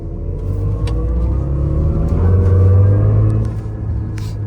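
A Chevy Silverado EV accelerates, giving a steady low whirring rumble that swells to a peak and then eases off, with a few faint clicks and no voices.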